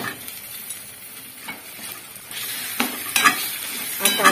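Stuffed brinjals fry in hot oil in a pan with a steady, close sizzle that grows louder partway through. Occasional stirring scrapes and sharp spits rise above it, and no one speaks.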